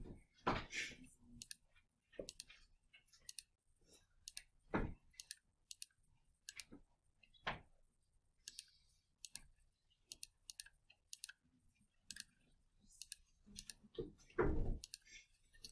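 Buttons pressed on a graphing calculator while entering a function, producing a string of sharp, close clicks spaced irregularly, with a few louder taps and rustles between them and no talking.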